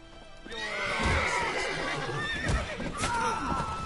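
A horse in the video game Witcher 3 whinnies loudly with a long, wavering neigh, followed by a second shorter whinny, with some clattering and faint voices underneath.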